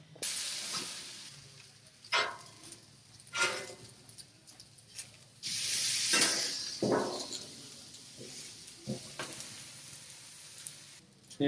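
Arepas frying on a hot Pro Series gas griddle, a soft, steady sizzle with louder hissing bursts as each one is set down, close by and without speech.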